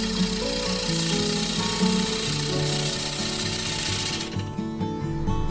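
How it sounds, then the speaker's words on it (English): A walnut bowl blank is roughed on a wood lathe, the gouge scraping and rumbling steadily against the spinning wood. The noise is loud and continuous, close up, and thins slightly near the end. "remove material until the piece runs smoothly on the lathe"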